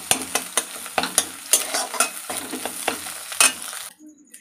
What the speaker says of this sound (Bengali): ডিমটাকে কুচি কুচি করে কেটে কেটে নেব, যেন গুঁড়ো গুঁড়ো হয়ে যায়।